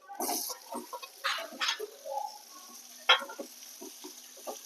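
Boiled potato dropped into a frying pan of sizzling chili, giving short bursts of sizzle and stirring scrapes with gaps between them and no voices.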